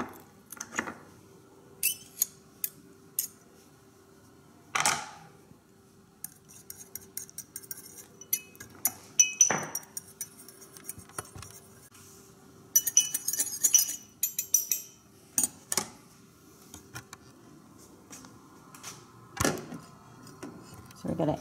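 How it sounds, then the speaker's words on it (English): A fork scraping and clinking against a bowl while mixing miso and other vegan ramen ingredients, in sparse, irregular taps and scrapes separated by quiet pauses. "you just want to mix that up with a fork"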